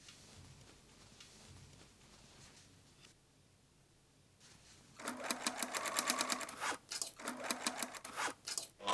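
A sewing machine stitches the corner cutouts of a travel bag made from an old shirt, running in several loud, close bursts after a quieter stretch of handling and near silence.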